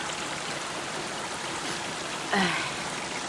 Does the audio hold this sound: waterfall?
yes